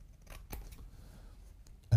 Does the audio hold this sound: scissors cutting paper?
yes